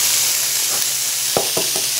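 Oil sizzles in a carbon steel, aluminum-clad pan on an induction cooktop, a steady close hiss throughout. A few light utensil taps come near the end.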